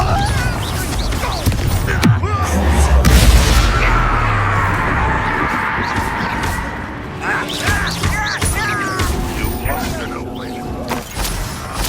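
Confringo fire spell blasting in Hogwarts Legacy, a loud boom with rumbling low-end and crackling debris amid dense battle effects and music, with voices speaking over the action.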